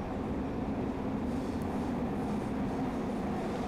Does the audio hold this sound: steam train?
yes